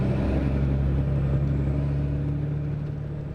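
A city bus on its route gives a steady, loud engine rumble with constant road noise inside the cabin, easing slightly toward the end.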